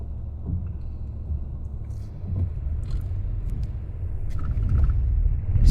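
A car engine revs during a hill-start driving lesson, a low rumbling drone that swells gradually as the clutch is eased up, with some faint scraping and clicks, getting louder toward the end.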